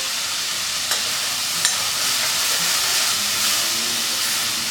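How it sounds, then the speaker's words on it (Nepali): Kwati, a Nepali mixed bean soup, is stirred in a pan over heat turned down to low, giving a steady close sizzle and hiss with a few faint scraping clicks from the stirring. "सबै अब यसमा राखिदिउँ र अब यसलाई चलाउँ।"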